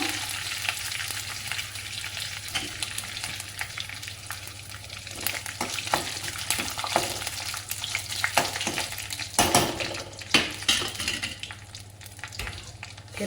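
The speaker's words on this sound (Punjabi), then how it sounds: "ਫਿਰ ਪਾਵਾਂਗੇ ਲਾਲ ਸੁੱਕੀਆਂ ਚਾਰ ਮਿਰਚਾਂ" Four dried red chillies fry in hot oil in a pan for a Punjabi kadhi, a continuous crackling sizzle broken by scraping stir strokes, close and fairly loud with no talking.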